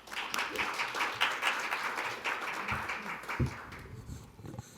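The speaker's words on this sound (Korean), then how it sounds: "박수 부탁드리겠습니다." An audience at a water-resources symposium lecture in Korea applauds, a dense, steady wash of clapping from many hands that fades toward the end, with a few louder claps close by.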